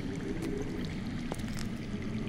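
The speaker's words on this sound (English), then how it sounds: "I hear water. From underground." Underground water flows in the Game of Thrones video game, a steady, full rushing and pouring wash with a few faint splashes, continuous and moderately loud, with no talk.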